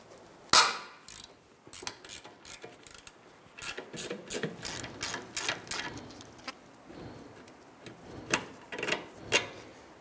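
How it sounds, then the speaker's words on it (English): Socket wrench working a suspension bolt loose on a 1999-2004 Jeep Grand Cherokee during a coil spring spacer install, heard as quick uneven ratcheting clicks and metallic ticks in bursts, close and moderately loud, with no talking. "Use a 50 millimeter socket to go ahead and remove the bolt."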